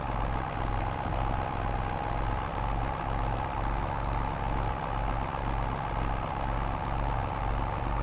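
Tractor engine labouring uphill in Farming Simulator 22, a steady low diesel drone with a rhythmic pulsing throb that holds continuously throughout at moderate level, with no speech.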